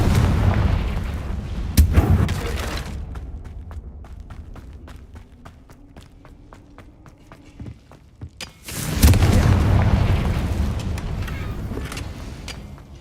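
Two loud Confringo spell explosions from the video game Hogwarts Legacy, each a sharp blast with a long rumbling tail, separated by a quieter stretch of faint rhythmic ticking.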